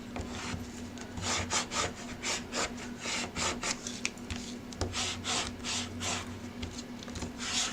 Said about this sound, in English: I'm going to just burnish a little bit